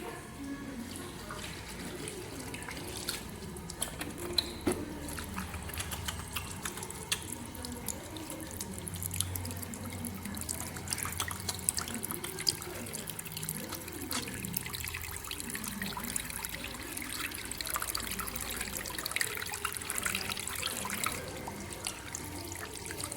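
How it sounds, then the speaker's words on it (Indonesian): Running tap water pours steadily into a sink while hands are washed before a physical examination, a continuous splashing flow with light drips, fairly close and with no talk. "saya akan melakukan cuci tangan terlebih dahulu"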